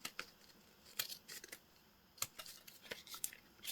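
Scissors snip through paper in a crafting setting, a quiet series of close, crisp cuts in an irregular rhythm with short pauses between them.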